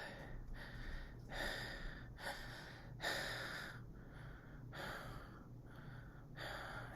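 A person imitates Cheyne-Stokes breathing with their voice, making a series of breathy, rasping gasps that rise and fall in repeated bursts, fairly close and alone.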